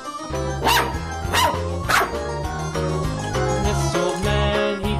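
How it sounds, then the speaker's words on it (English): A dog barks several times in a row over a bouncy children's tune with a steady bass line, the barks clear and prominent above the music. "Dog."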